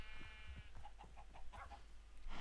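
Sheep bleating in the Minecraft Doctor Who Dalek mod, a short series of faint bleats followed by soft, rapid blocky game sounds.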